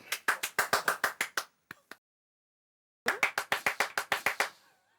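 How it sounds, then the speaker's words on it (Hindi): A group claps hands in two rhythmic bursts of quick, sharp, close claps, with a short pause between them and a few stray claps, and no talking. "बजाओ ताली।"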